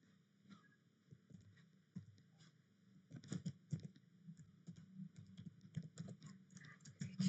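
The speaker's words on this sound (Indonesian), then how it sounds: "Kita ketik" Commands typed on a computer keyboard while configuring a network switch, with quiet, irregular key clicks at first that grow louder and denser partway through, continuing steadily with no talking.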